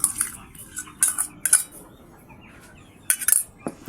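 Chicken feed is mixed with additives for young white broiler chicks, heard as bursts of scraping and clinking from a utensil against a container, separated by quiet gaps, with faint bird sounds nearby.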